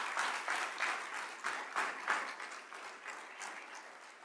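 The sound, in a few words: audience applause for the chancellor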